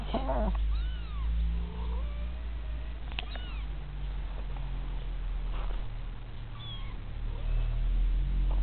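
Several cat meows, some drawn-out and wavering, come at irregular moments over a steady low hum and faint background noise.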